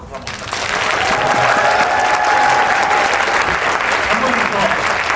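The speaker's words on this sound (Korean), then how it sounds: "뜨거운 박수 한번 부탁드립니다" Loud, sustained applause from an audience at a film screening and talk event, rising quickly after a quiet start and holding as a dense wash of clapping for several seconds.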